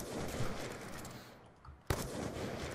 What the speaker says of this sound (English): I killed you with a sniper though,